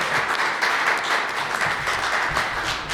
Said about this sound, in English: Let's have another round of applause for the man of the hour.